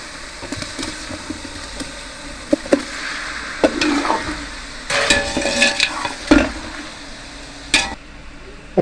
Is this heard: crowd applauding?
no